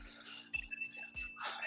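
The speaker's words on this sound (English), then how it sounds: "Ring that bell." A bell rings out in bright, sustained tones across a short, loud stretch on a live market broadcast, two clear strikes following a quieter start.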